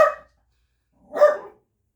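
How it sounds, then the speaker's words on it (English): A dog barks twice, a short bark at the start and another about a second later, close and fairly loud with silence between. "Pardon my dog's barking"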